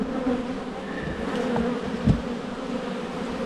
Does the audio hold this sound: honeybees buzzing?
yes